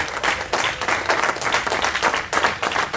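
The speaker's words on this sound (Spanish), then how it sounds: "Denle un fuerte aplauso al Señor." A church congregation claps loudly and continuously, dense overlapping hand claps swelling in rough pulses for the full length.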